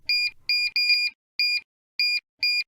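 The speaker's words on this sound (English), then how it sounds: "You should note, the machine will beep when any button is pressed." A Hobart HMM20 commercial mixer gives sharp electronic beeps as its buttons are pressed: six or seven short, clear tones in an uneven sequence, close and loud against near silence.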